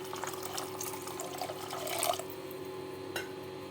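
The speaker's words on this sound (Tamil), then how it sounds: "இப்போ இதில் வந்து நான் வந்து மூழ்கிற அளவுக்கு தண்ணி சேர்த்துக்கிறேன்" Water pours steadily into a container of soaked rice close by, a soft splashing trickle that swells briefly, then tapers off.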